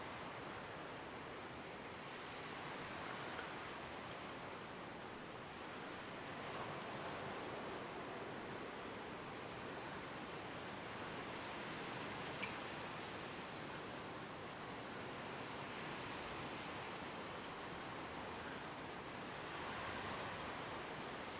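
Steady, broad rushing wind roars without pause at Sargeant Bay on a hazy morning, with gentle swells in strength and a surf-like wash underneath, with no voices.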